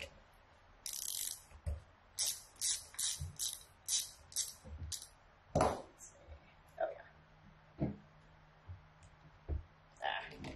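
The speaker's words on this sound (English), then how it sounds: "Let's go ahead and use our ratchet." A hand ratchet working on a B series distributor, a run of quick, close clicking bursts in an uneven rhythm, with soft talk and a few louder knocks between strokes.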